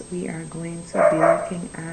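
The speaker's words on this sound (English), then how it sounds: "I apologize for the dog." A house dog yips and barks a few times in short bursts nearby, heard under a person speaking steadily in a home setting during a French lesson.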